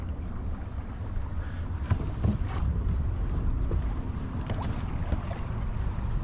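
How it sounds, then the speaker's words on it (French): A First 27 sailboat running downwind under sail at sea, a steady loud rush of wind noise and water with occasional creaks and thumps from the boat. "Là, ça y est, on est sous voile."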